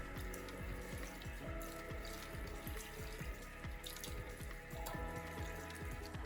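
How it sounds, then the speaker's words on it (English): Tap water runs steadily into a bathroom sink while freshly cleaned plumbing fixtures are rinsed, giving a continuous close splashing with scattered drips and no talking. "rinse the plumbing fixtures thoroughly with running water to remove any remaining cleaning solution"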